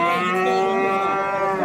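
A three-day-old calf, a cow's fourth, moos in one sustained, tonal low call at a busy cattle market, close and clear with no talk over it.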